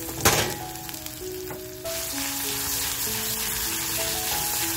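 Crushed garlic and green chilli dropped into frying onions set up a loud, steady sizzle after a brief clatter, close and constant with no voices.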